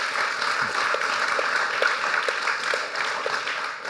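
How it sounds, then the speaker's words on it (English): Audience applause at the close of an event on the making of a nature documentary series, a steady wash of clapping sustained throughout, with no talk over it. "A huge round of applause, please."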